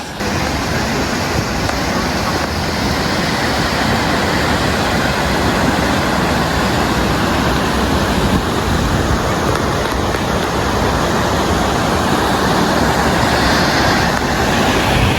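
Rushing water at the Aruvikkarai waterfall, a loud, dense, unbroken roar that holds steady throughout with no voices.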